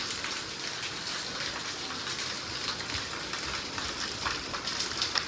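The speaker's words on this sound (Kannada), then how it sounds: "ನೀರು ಮಳೆ ಫಾಸ್ಟ್ ಹೊಡ್ಯಾತೈತ್ರಿ ಒಂದು ತಾಸು ಮ್ಯಾಗ ಐತ್ರಿ" Heavy rain falls fast and steadily, a dense, even hiss of drops on surfaces that stays loud and unbroken throughout, with no voices.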